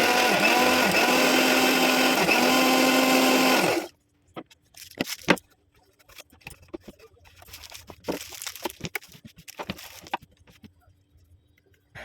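A kitchen mixer grinder runs with a loud, steady motor whine for about four seconds, then cuts off, followed by scattered knocks and clatter as it is handled.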